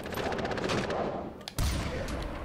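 Gunfire fills a Far Cry 4 prison-escape fight, heard as loud, rapid bursts and shots in quick succession with a heavy blast partway through.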